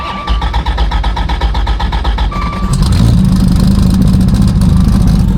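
A 3300 hp turbocharged Dodge Viper named Kratos runs loud and close, a deep rough engine rumble that starts with a choppy pulsing idle and then swells into a heavier, fuller roar.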